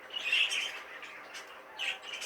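A young light green cock bird, likely a budgerigar-type cage bird, gives a run of close, bright chattering calls and squawks, with short louder bursts near the start and end and no voices.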